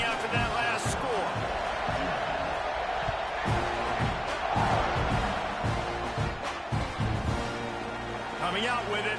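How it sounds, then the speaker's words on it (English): A college football stadium crowd in South Carolina buzzes after a score, a constant distant roar of many voices beneath a play-by-play announcer talking throughout. "this crowd is buzzing after that last score"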